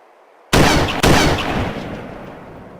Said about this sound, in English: Just pick one of them and shoot it three times.